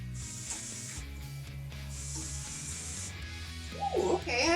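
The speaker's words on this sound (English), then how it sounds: "now it's my turn to use the sprayer" A garden sprayer hisses in short bursts over plants, two or three fairly quiet spray pulses separated by brief gaps, with faint handling noises and a short voice near the end.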